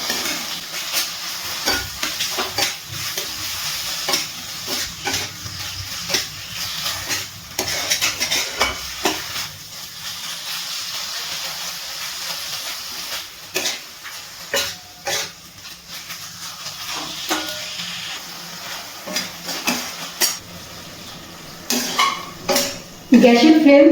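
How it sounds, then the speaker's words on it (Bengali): Chicken keema stir-fried with spices in a pan over a medium gas flame, steady sizzling and hiss broken by frequent scraping and clattering strokes of a spatula that build to louder knocks near the end. "গ্যাসের ফ্লেম মিডিয়ামে রেখে চিকেন ভালো করে কষিয়ে নিচ্ছি।"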